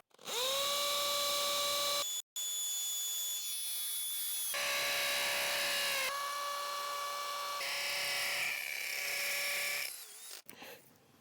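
A DeWalt DCD805N 20V brushless cordless hammer drill bores into a concrete house pillar base, whining at shifting speeds in several long bursts separated by short stops, close and loud, ending in a scraping tail.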